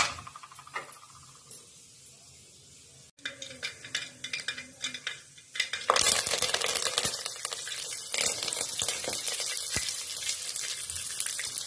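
Mustard and cumin seeds spluttering in hot oil in a home kitchen, starting with scattered sharp pops and rising to a dense, crackling sizzle that stays loud and continuous.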